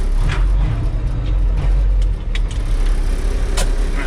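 Old Peterbilt truck cruising along, a steady deep engine rumble with road noise running throughout, close and loud with no break.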